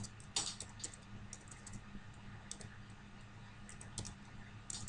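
Quiet, steady keyboard typing with irregular clicks of keys, close by, over a low background hum.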